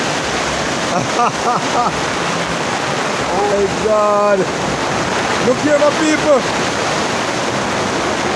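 Loud rushing water flows steadily throughout, a broad continuous roar, while a man exclaims excitedly over it in several short bursts.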